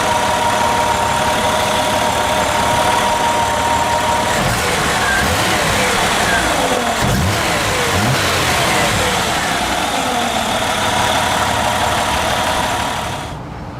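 A 1975 Ford Granada GL engine idles quietly and evenly, a steady low hum close by with faint rustling and movement over it, no one speaking, fading out at the end.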